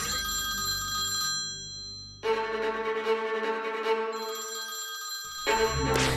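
A telephone rings in an experiment testing whether a doctor could have missed its ringing: electronic bell trills repeat in steady bursts with brief pauses, loud and close, without talk.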